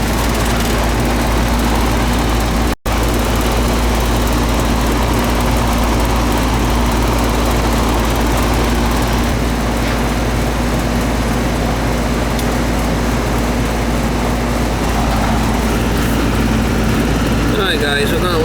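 An air conditioning system runs steadily at close range with a constant low mechanical hum and fan whir that holds through the whole stretch, broken only by one sharp click near the start.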